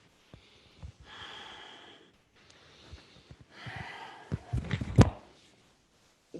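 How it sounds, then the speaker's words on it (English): Long, deep breathing while holding a yoga bow pose, slow audible inhales and exhales close to the mic, ending in a louder forceful exhale with some rustling. "just long, deep breathing"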